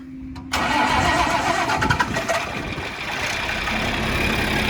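An old, cold-natured engine on a harvest vehicle cranks and fires up, settling into a steady rough idle that continues close and loud after the start.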